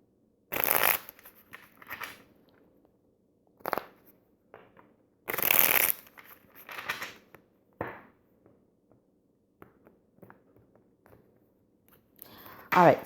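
Tarot cards are shuffled and handled in short bursts, a few crisp riffles and snaps separated by quiet pauses, close and moderately loud.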